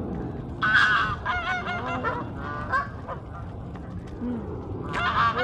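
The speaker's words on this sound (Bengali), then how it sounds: "ওই তো হাঁসের ডাক" Waterfowl by the River Thames at Windsor call in loud, nasal honking bursts, one burst near the start and another near the end, with quieter calls between them.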